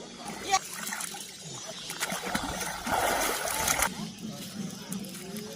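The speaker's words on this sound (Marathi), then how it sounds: "बाटल्या भरून घ्यायच्या आपल्याला पाण्याच्या." Water bottles being filled in the Godavari river at daybreak: irregular splashes and trickling water, with people talking close by.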